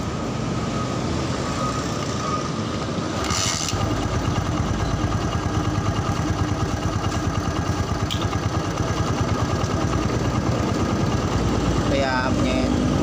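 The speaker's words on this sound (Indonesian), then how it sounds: "kita hidupkan motornya" A Honda motorcycle with a loose manual cam chain tensioner starts and idles, a close, steady rapid engine putter with mechanical chatter that continues throughout, with a voice briefly present near the end.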